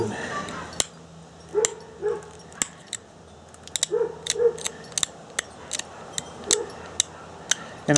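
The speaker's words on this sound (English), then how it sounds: "I don't think I've ever shot a video out here where I didn't have dogs barking." Dogs bark outdoors in sharp, irregular yaps and woofs, some near and some farther off, while someone knaps a Thebes-style stone point. Faint ticking taps and a voice talking sit beneath the barking.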